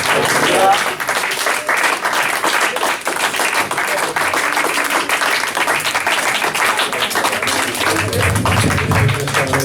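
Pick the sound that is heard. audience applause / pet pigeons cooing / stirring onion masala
audience applause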